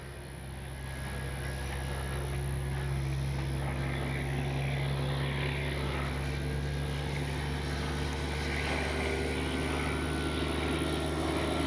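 A steady propeller drone hums from a 1600mm FlightLine P-38 RC model plane in the air, holding a constant pitch with a faint whine, moderately distant and unbroken.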